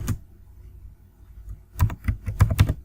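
Folder name being typed on a computer keyboard at a desk, a quiet hum giving way to a quick close burst of key clicks.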